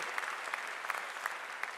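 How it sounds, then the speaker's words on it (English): Audience applause for the graduating class of 2019 at the WPI graduate commencement ceremony: a dense, steady roar of many hands clapping from a large crowd, unbroken throughout with no speech over it. "give yourselves a round of applause"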